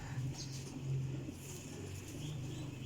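Pigeons coo softly in a low, repeated murmur at a loft of high-quality flying pigeons, the steady burbling calls continuing close by with no talk over them.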